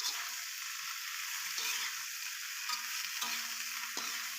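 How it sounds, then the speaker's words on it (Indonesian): Mustard greens are stir-fried with spices in a wok, giving a bright continuous sizzle. Spatula scrapes and clacks break through it at intervals. "Kita orak-arik sama bumbu biar merata bumbunya."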